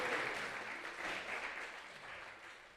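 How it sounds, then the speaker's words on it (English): Temple-room audience at an ISKCON temple in Dallas applauding volunteers, a full, continuous crowd clapping that starts strong and gradually tapers over a few seconds, heard alone without talk. "Let us give a big round of applause to all these volunteers as well"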